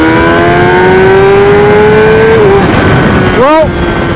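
Ducati V4 Speciale motorcycle engine holding a loud, steady, slowly rising drone up close, then dropping a gear with a quick series of sharp revving blips near the end, a voice speaking over it.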